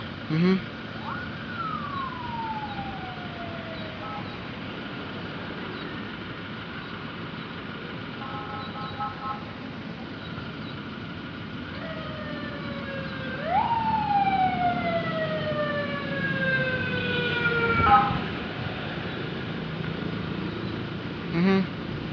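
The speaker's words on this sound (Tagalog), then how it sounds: "Ambulance from Municipality of Sison, Surigao del Norte." A Foton ambulance from the Municipality of Sison, Surigao del Norte, sounds a rising and falling wail siren. The repeated sweeping cycles come from moderately close and run over steady street background and faint talk.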